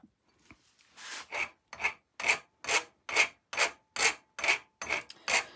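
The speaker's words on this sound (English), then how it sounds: "I've got a set of dedicated files I use when I'm doing aluminum" A hand file rasps back and forth across an aluminum part for a Honda CT70 motorcycle build, about eleven steady, evenly spaced strokes, close and fairly loud, with no talking.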